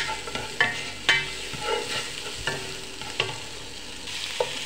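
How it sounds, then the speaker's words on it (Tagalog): Onion and tomato sauté in rendered pork fat in a pan, a soft continuous sizzle with occasional clinks and scrapes of a spoon stirring, close and fairly quiet, no talking. "Ngayon, lagyan natin ang sibuyas at kamatis."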